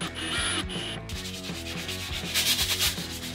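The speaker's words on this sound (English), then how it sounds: "I'm roughening up the ends of the rods that will be clamped" Rods being roughened at their ends by sanding in a small woodworking workshop while building a router table: steady, rhythmic back-and-forth rubbing strokes, close and fairly loud, with no talking.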